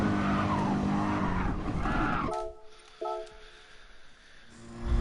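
A race car in the GT Sport racing game oversteers, its tires squealing and skidding loudly for about two seconds under the engine roar, then a quieter stretch with a brief knock before the engine swells again.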